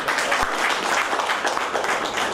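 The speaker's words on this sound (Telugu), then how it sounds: "హృదయపూర్వకంగా మన అందరి తరఫున వారికి చప్పట్లతో అభినందనలు తెలియజేయాలి" Attendees at a Congress party Panchayat Raj Sangathan meeting applaud, a dense, steady burst of clapping from a crowd indoors, close and loud throughout.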